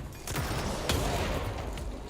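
Weapon fire and explosions in the video game Control, with a dense, continuous barrage of gunfire blasts and destruction, loud and sustained throughout with a sharp burst near the middle.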